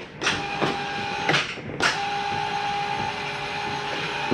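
A motorized top bunk in a Heartland Torque T333 RV travels back up, giving a steady mechanical motor hum with a few clunks near the start, close and alone without voices.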